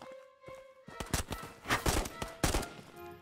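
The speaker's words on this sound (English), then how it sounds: "There's a scav shooting at me." Gunfire from a scav in the video game Ghosts of Tabor: a rapid, uneven burst of loud, sharp shots with a few clustered cracks, fairly close and dominating the moment.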